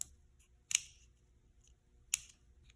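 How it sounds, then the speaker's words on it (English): Scissors make two separate crisp snips while rounding the edges of folded origami paper. The close cuts are sharp and come with quiet pauses between them. "I'm taking some scissors and I'm just"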